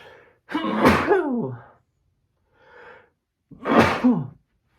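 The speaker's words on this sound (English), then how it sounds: "Nothing like sneezing on my footage, right?" Two loud sneezes close to the mic, separated by a short quieter breathy sound, with silence between them.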